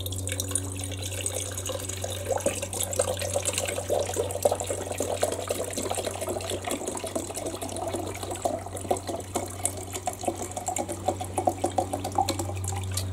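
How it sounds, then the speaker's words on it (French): Water pours steadily into the pot of an MSR Windburner camping stove, a continuous close trickling splash with a low steady hum behind it and no talk. "maintenant je prends de l'eau. Ça, et je vais en verser, on va dire, jusqu'à la moitié"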